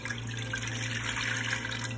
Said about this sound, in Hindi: पानी डाल रहा, ठीक है